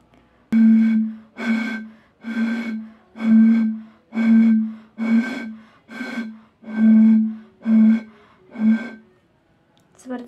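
Breathy hollow tones from blowing across the mouth of a bottle holding 10 cm of water, about eleven separate puffs in an even rhythm, each a steady low hoot with airy hiss, close and fairly loud.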